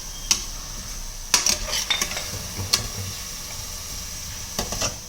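Onions and chicken frying in a pan with salt added, stirred in a few separate bursts of scraping over a steady sizzle, fairly close.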